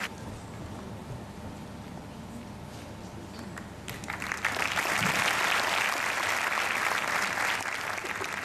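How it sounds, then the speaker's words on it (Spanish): An audience in Chile applauds a Chinese community choir. A faint, thin patter at first breaks into loud, full clapping that carries on steadily to the end. "nuestro primer aplauso tiene que ser gigante, hermoso para el coro de la colonia china en Chile"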